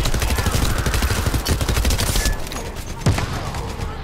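Dense, loud, sustained machine-gun fire rattles from a character in The First Descendant shooter game, easing slightly near the end.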